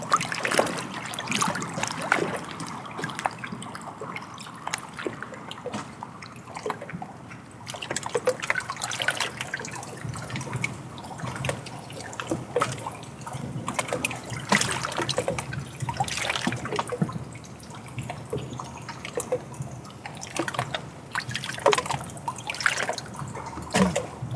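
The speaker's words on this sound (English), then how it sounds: "hearing the water negotiate its space around other objects soothes my soul." Water trickling and dribbling around stones and other objects, a steady close gurgle with irregular drips and splashes continuing throughout, no voices.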